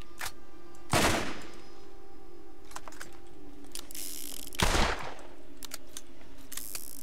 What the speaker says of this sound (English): It's a shotgun.